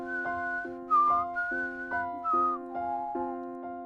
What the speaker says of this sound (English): I hear the whistling again.